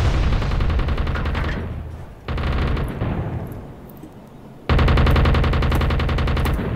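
Deck gun fire from a submarine in the naval game UBOAT: long strings of rapid, heavy machine-gun rounds, loud and close, broken by a brief lull before an even louder burst.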